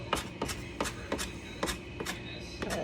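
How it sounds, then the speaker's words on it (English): A knife chops an onion finely on a board, with close, crisp strikes falling in a steady rhythm of roughly three per second, with a soft kitchen hum beneath. "Now I'm going to chop up this onion real fine."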